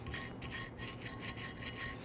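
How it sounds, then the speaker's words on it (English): A wire brush scrubs the brake pad slide area on a Dodge Charger's front brake caliper bracket in about six rhythmic, scratchy, close strokes with no talking. "Go ahead and use your wire brush. You want to clean where the slides will go."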